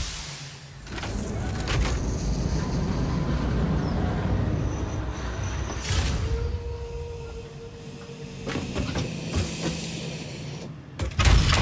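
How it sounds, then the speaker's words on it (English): Trains pulling into a station in the factory-building game Satisfactory, a steady loud mechanical rumble with clanks and a rising whine, ending in a few sharp knocks, no talking. "I suck at docking these trains."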